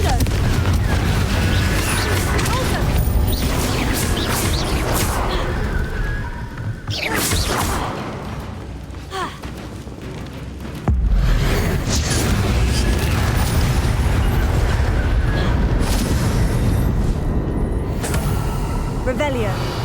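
Blasting curse explosions from Hogwarts Legacy, loud booming bursts with whooshes and crashes filling most of the stretch, a quieter lull midway before the blasts resume, with a voice speaking over parts of it.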